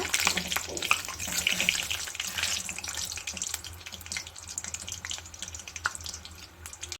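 A second batch of mini samosas goes into hot oil for deep-frying, producing a loud, bubbling, crackling sizzle that fills the clip and eases slightly toward the end, with a voice faintly underneath.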